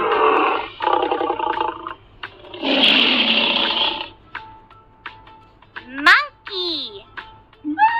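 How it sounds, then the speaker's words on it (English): A lion roars in a rough, rumbling burst that rises and fades over several seconds, followed by a few scattered higher calls, fairly loud and close. "Lion."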